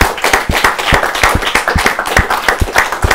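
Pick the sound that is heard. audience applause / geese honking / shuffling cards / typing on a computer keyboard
audience applause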